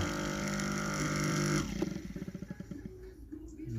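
Kärcher K5 pressure washer motor with a burnt stator runs with a steady loud hum, then shifts into a rapid pulsing, stuttering chug that fades toward the end.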